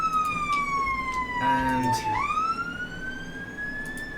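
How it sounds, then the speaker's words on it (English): A fire engine siren in the emergency-response game Emergency 4 with the Norfolk & Suffolk mod, a loud wailing tone sweeping down then back up, with a brief burst of engine and traffic noise and a short spoken word. "This fire engine is really annoying me"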